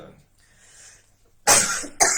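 Two sharp, close coughs in quick succession, the second shorter, following a brief quiet murmur.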